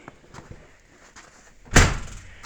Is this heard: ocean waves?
no